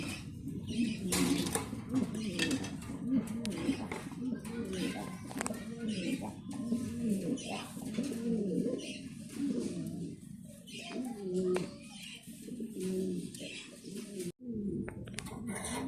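Pigeons at a farm coo in low repeated throaty phrases throughout, fairly close, with soft rustling and other bird sounds around them.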